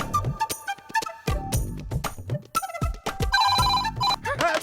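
A phone ringtone plays loud and melodic, a repeating tune of bright tones with musical accompaniment, running steadily for several seconds in a domestic TV drama scene.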